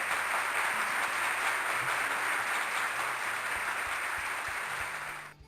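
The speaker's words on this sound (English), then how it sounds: "I just don't like to talk over that applause." Crowd applause sound effect from the video game Railroad Tycoon 2 plays as a steady, dense wash of clapping for about five seconds, then cuts off abruptly.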